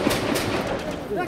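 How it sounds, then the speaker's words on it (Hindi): Sharp cracks of gunfire ring out repeatedly during a security forces operation, over a steady background din, with a voice talking through the whole stretch. "आप फायरिंग भी सुन सकते हैं किस तरह की फायरिंग हो रही है।"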